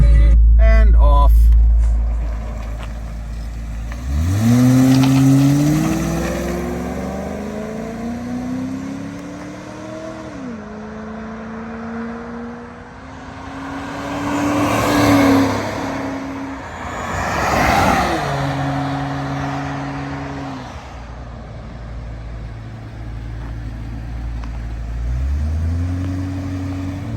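A 1993 Aston Martin Virage Volante widebody drives and accelerates, its engine note climbing and settling through several gear changes, loud and close from inside the car, with a person speaking over it now and then.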